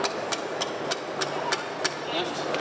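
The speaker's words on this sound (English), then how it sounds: "while Alex hammers that down" Motorcycle forks are hammered into place, giving a regular series of about nine sharp metallic strikes at an even pace over a busy background hum.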